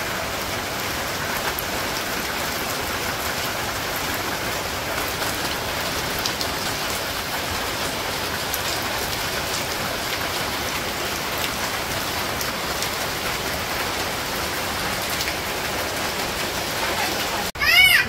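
Steady rain pours down on a village in November, a dense, even hiss of drops on surfaces that continues unbroken throughout with no voices.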